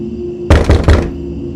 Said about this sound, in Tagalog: nang marinig ang malakas na katok sa pinto